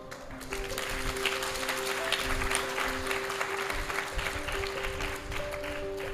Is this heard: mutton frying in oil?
no